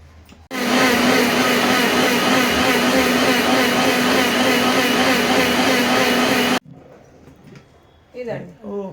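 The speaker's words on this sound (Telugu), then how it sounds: "రుబ్బుకుందాం." A kitchen mixer grinder whirs loudly and steadily for about six seconds as it grinds a lentil chutney seasoned with an oil tempering, then cuts off abruptly, leaving faint clatter and a brief voice.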